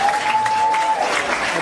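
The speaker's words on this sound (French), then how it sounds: "applaudissez-moi" Audience applause with a dense, steady clatter of hands from a crowd, filling the short stretch at an even level, with a held tone running underneath for the first part.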